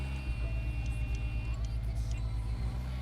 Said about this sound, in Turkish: Bu araba sesi falan da kötü ya.